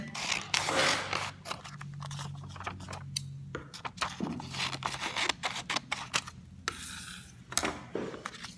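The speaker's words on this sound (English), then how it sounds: "take some scissors and just do a really loose shadow cut around it" Scissors make a loose cut around a paper image for printmaking transfer, giving close, quiet snips and paper rustles in an irregular rhythm.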